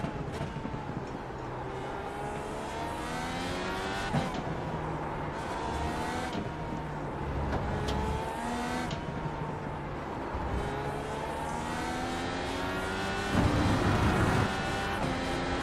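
An IndyCar on the Indianapolis road course in the iRacing sim screams continuously at high revs, with rising gear sweeps, shift breaks and other cars close around it, loud and unbroken throughout.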